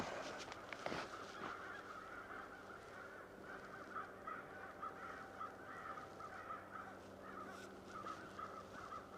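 A bunch of crows by a snowy pond cawing and squabbling together at some distance, a steady faint chorus of harsh, overlapping calls.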